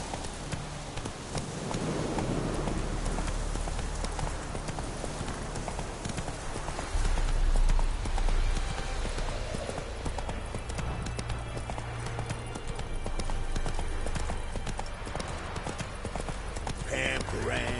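Hooves of the horse Roach gallop steadily in the video game The Witcher 3, a continuous clip-clop rhythm over a busy game soundscape with music and ambient noise, swelling briefly midway.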